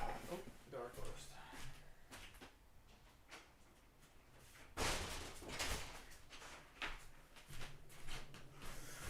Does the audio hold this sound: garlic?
no